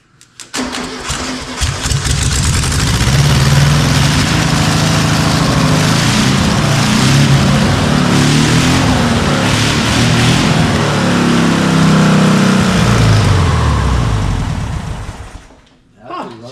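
A Volkswagen engine, its carburettor freshly filled, starts and runs loud and close with a steady buzzing drone for about fifteen seconds before cutting out abruptly.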